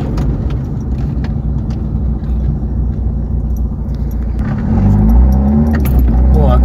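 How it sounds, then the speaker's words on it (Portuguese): A Fiat Palio car idles with a low rumble and a jangle of keys, then the engine note rises as it pulls away, loud and close. "acabei de arrancar com o carro aqui"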